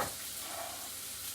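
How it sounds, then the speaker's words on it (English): Onions sizzle steadily in hot oil in a pan, a continuous close frying hiss with no talking. "Can you hear that sizzling?"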